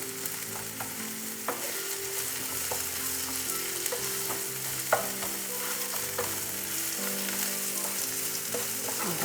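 Onion fries in a pan while it is stirred, giving a continuous bright sizzle with frequent spatula scrapes and light taps against the metal, moderately close and with no voices.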